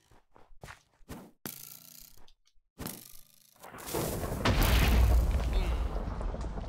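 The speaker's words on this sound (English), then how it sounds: "One hit with the TNT, and most of the time everyone explodes." A TNT blast in Minecraft erupts as a loud, rumbling boom that swells and lingers after a few short clicks and thuds, with scattered talk-free gaps before it.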